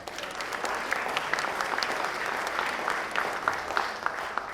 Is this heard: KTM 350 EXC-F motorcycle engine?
no